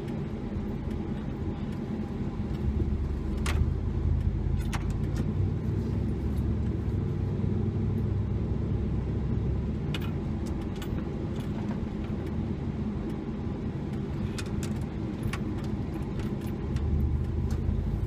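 Steady low rumble of a pickup truck engine and road noise from inside the cab while cruising around a small town, continuous and even throughout with a few faint clicks.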